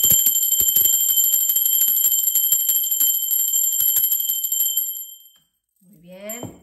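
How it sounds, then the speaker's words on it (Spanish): A high, bright bell rings with a steady, lingering tone that holds for about five seconds and then fades to silence, after which a voice briefly speaks. "va directamente la campana"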